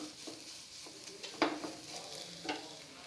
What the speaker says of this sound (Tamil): உப்பு சேர்த்து நல்லா மிக்ஸ் பண்ணிவிட்டு கட் பண்ணி வச்ச சப்பாத்தியை சேர்த்துடலாம்.